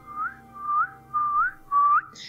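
A person whistles a short lilting tune of four rising phrases, clear and close, with brief pauses between them and no talking.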